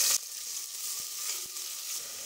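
Finely chopped big onions sauté in a pan for moong dal veg masala kichadi, a steady soft sizzle with a couple of faint utensil taps, no talking.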